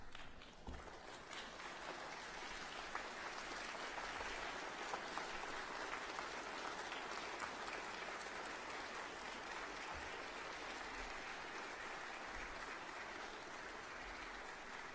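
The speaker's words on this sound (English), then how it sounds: "would you stand and please give all these folks a round of applause" Sustained applause from a standing crowd at a university graduation ceremony, dense and even clapping that continues steadily throughout at moderate volume without speech.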